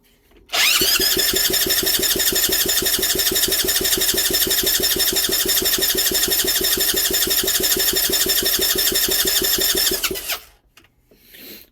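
A Honda Z50 motorcycle engine cranks and sputters loudly and steadily for about ten seconds in a rapid, even pulse, then cuts off into near silence.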